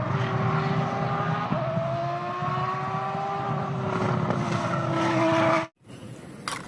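Toy F1 race car sounding an engine effect, a steady droning whine with slowly shifting pitch over a noisy background, ending in a sudden cutoff.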